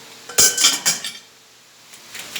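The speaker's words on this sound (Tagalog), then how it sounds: "At takpan natin yung kaliro." A metal lid is set onto a cooking pot holding purple sweet potatoes, giving a close, bright clank, a couple of quick rattling settles and a final light tap, then near silence.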